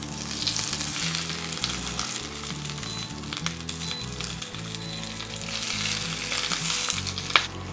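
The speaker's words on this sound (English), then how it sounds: "Let's just add some high heat oil to the pan and we're gonna start adding our bok choy." Bok choy fries in high heat oil in a pan, producing a steady close sizzle with soft crackles and a sharp pop near the end.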